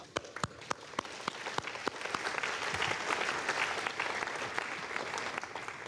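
An audience applauds steadily at an Ariane rocket launch event, the clapping swelling into a dense, sustained patter with a few sharp individual claps standing out.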